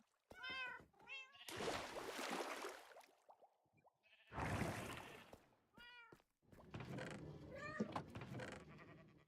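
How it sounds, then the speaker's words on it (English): Two cats meowing in a quiet indoor room, their calls overlapping in near-unison several times, close and clear, with bursts of soft rustling noise between the meows. "Is that a synchronized meow?"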